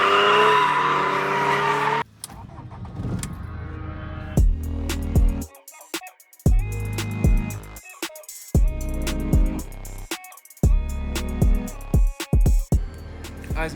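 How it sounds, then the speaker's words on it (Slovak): A car drifts at a drift event, with loud engine revving and high, sustained tire squeals. The bursts come in repeated runs broken by short gaps, and a voice is heard briefly at the start. "Budeš driftovať."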